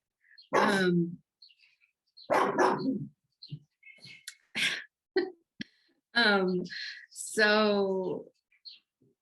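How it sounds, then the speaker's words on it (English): A pet dog barks repeatedly in short, loud, close bursts at an indoor home setting, several barks spaced across the clip with brief gaps between them. "Sorry, my dog."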